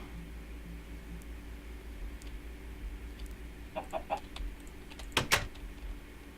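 Minecraft chickens cluck in short, quiet bursts over a hissy game background, with a few clucks around the middle and a louder, sharper cluster near the end; no one talks.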